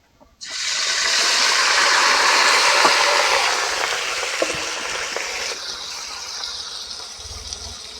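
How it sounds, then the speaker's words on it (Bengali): Malabar spinach and potatoes frying in hot oil give a loud, steady sizzle that starts abruptly and holds, fading slightly toward the end, with a few faint clinks. "এবার দিয়ে দেবো কেটে ধুয়ে রাখা পুঁইশাক আলু ওই তেলে দিয়ে দেবো"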